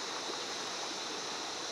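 Flowing water of Cedar Creek in Queensland, heard as a steady, even rush of a creek or small cascade, continuous and fairly soft with no voices.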